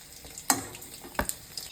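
Momos frying in hot oil for chilli momo, a low steady sizzle close by with a few sharp clinks of a utensil against the pan.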